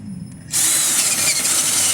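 A power drill on a dual fuel generator being assembled kicks in abruptly after a quiet moment and runs steadily with a loud, high whine, close by and alone.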